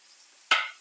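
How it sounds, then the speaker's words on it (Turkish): Chopped tomatoes hit a hot frying pan with a sudden loud sizzle that fades over a few tenths of a second, followed by a short sharp knock. "Doğradığımız domateslerimizi ilave ediyoruz."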